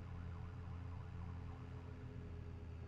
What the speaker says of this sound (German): Hat eine Sirene gehört hier?